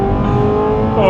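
An Audi R8 with a straight-pipe exhaust roars loud and close, a brief harsh engine blare with rising tone as it shifts.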